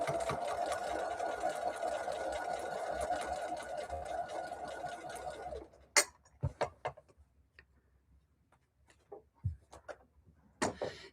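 Sewing machine stitching quilt block pieces, running loud and steady for about six seconds, then stopping, followed by scattered clicks and handling noises in a quiet room.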